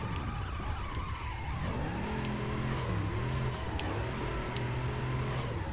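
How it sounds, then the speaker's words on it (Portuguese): In the PS2 game Fast and Furious Tokyo, a car with strong torque drifts uphill, its engine droning loud and steady while the tires squeal and skid continuously throughout. "Subir montanha no drift é uma merda"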